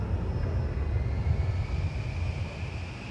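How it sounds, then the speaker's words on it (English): A jet airplane engine rumbles steadily in the SimAirport airport simulator game, a sustained low roar with a faint rising whine, continuous and moderately loud with no talk. "Gotta wait for that other plane to land."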